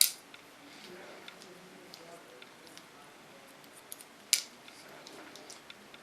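Scissors snip through wet hair during a short haircut, a few crisp, faint cuts spread apart with one sharper snip near the end, set against a quiet room.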